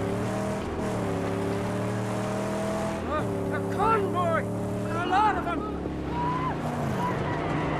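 A car in the Mad Max video game holds a steady droning engine note that jumps as it accelerates, with chirping whines rising over it toward the end, loud and close throughout.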